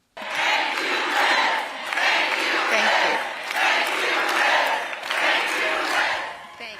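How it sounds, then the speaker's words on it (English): A large crowd at a Wisconsin presidential campaign rally chants in four loud rhythmic waves, each swelling and easing, with a roaring, cheer-like tone. "But it's not Harris's name the crowd is chanting."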